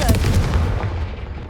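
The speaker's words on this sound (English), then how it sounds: "Confringo!" A Confringo fire spell in Hogwarts Legacy bursts with a loud, close blast, a sharp crackling boom that decays over about a second and a half, alone without talk.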